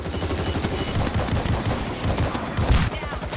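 Continuous bursts of rapid automatic gunfire from the World War Z zombie shooter game, loud and close, rattling densely from start to finish with no talk.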